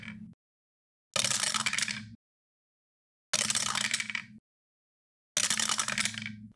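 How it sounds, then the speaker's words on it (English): Dice rolled three separate times for the casino game Pyramid Dice, each roll a bright rattling clatter lasting about a second, spaced by short silences, close and alone with no talk. "every time you roll the dice"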